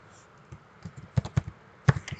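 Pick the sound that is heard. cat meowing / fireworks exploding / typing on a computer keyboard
typing on a computer keyboard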